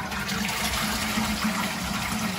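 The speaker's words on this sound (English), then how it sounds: "So we'll give it a flush." A toilet is flushed after its pan connector was replaced with a flexible one, giving a steady rushing wash of water, close by and continuous throughout without speech.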